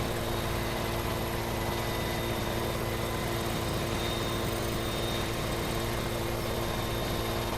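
A helicopter in Farming Simulator 17 flies with a loud, constant rotor and engine drone, steady and close throughout with a faint hum of high-pitched whine above it.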